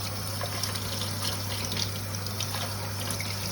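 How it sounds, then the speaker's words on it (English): Tap water runs steadily into a kitchen sink while rice is rinsed, a constant close trickle and splash with a low hum underneath and no talking. "I wash my rice out, and as you can see, the water comes out really clear."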